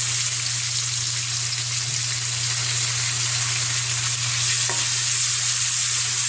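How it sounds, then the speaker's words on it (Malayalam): Ginger and garlic frying in oil for a mutton curry give a steady, close hiss of sizzling that runs the whole time, with faint stirring and no talk. "ഇഞ്ചിയും വെളുത്തുള്ളിയും ഇടാം."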